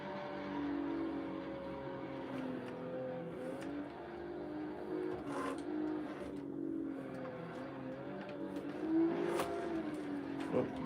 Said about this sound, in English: Let's clutch kick out of there.